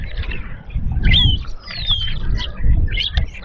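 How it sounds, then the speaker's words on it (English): Starlings chirp and call in bright, sliding notes over a busy low rumble of background noise, several birds overlapping, at Mudeford, Dorset, UK. "I can hear a lot of birds in amongst this. Oh yes, starlings."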